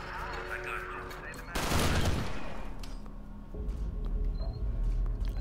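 Gunfire from the Alien Swarm game with a Warhammer 40k mod, a dense burst of rapid shots over a steady backdrop of game sounds and effects.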